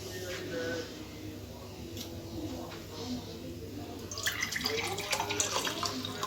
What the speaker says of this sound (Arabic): احط كمان ميه.